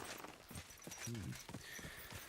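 Horse hooves clip-clopping on the ground in Kingdom Come: Deliverance II, a steady walking rhythm of soft knocks under game ambience and a faint voice.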